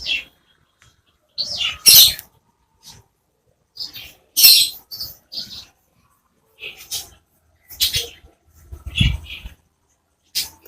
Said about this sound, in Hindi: ये जो पंछी है बुलबुली पंछी बोलते हैं इसको